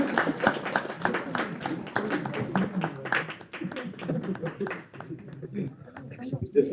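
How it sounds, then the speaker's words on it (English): Applause at a hackathon event, a small group clapping in brisk bursts while people chatter and talk over it nearby. "Can we have a round of applause, guys?"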